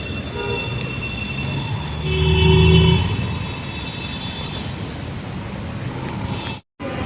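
A metro train rumbles through Saket metro station in Delhi, its wheels and motor swelling louder for a moment amid steady platform noise, with a brief high squeal.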